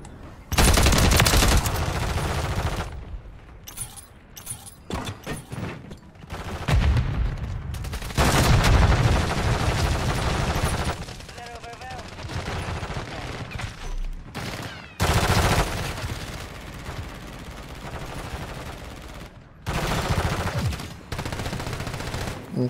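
Call of Duty MW3 multiplayer gunfire, repeated loud bursts of automatic shots separated by short quieter pauses, with booming impacts mixed in over about twenty seconds.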